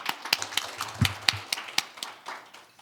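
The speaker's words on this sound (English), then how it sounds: "Please welcome her on stage with a big round of applause." Scattered clapping from a forum audience welcoming a speaker to the stage, sparse distinct claps at uneven intervals rather than a full ovation, with faint low thumps beneath.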